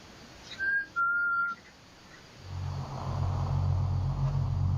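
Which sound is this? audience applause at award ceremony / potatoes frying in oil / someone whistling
someone whistling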